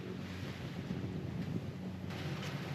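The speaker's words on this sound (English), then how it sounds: "We've still got about 19, 20 knots of true wind." Strong wind of about 19 to 20 knots buffets a sailing boat in a big swell off the Sicilian coast, a faint, continuous rushing roar with gusty wind noise on the microphone and no voices.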